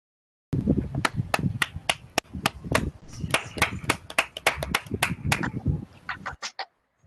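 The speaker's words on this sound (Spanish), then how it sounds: "los invito a que aplaudamos virtualmente la presentación" Virtual applause after a presentation, with a run of sharp handclaps from a few people at a lively, uneven pace, close to the microphone, that stops abruptly.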